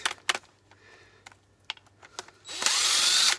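Countersunk star-head screws are driven out of a door with a power screwdriver: a few sharp clicks and taps, then a loud, steady whirring burst of the driver near the end.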